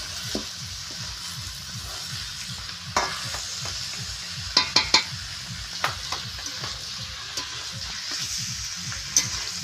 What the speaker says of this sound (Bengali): এখন কাঠলটা দিয়ে ঘাটাঘাটি করবে